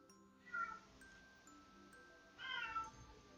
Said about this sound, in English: I really hope y'all can't hear how loud my cat is